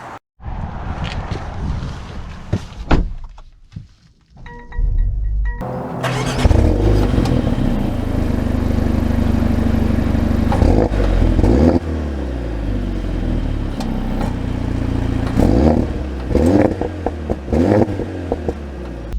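A 2023 Mercedes-AMG GLA 45 is driven, its engine pulling and revving through gear changes with rising and falling tones under steady road and wind noise after a quiet start.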